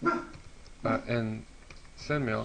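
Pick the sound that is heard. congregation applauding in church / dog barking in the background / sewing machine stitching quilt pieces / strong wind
dog barking in the background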